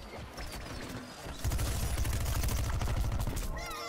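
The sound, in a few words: cannon fire in video game Plants vs Zombies Garden Warfare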